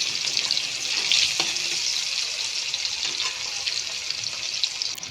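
Chopped onion hitting hot fish-frying oil seasoned with cumin seeds, giving a close, steady bright sizzle with a few soft clicks and scrapes, no voices.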